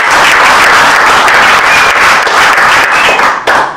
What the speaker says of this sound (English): let's just clap your hands here for Oscar.